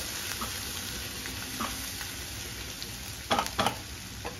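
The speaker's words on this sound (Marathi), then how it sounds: "हा मिरचीचा कच्चापणा गेला तुपातनं परतून घ्यायचे" Ground green chili sizzles gently in ghee, a steady faint frying hiss with a couple of brief scraping stirs near the end, heard alone without speech.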